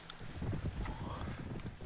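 Horse hooves thud in a fast, rhythmic clip-clop during a Mount & Blade: Warband battle. The galloping is steady and close under a low din.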